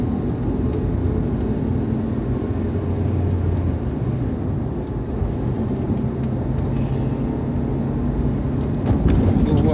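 An NPM bus runs along the Palembang–Betung eastern highway, a steady low engine and road rumble with broadband tire noise holding continuously from start to finish, no talk.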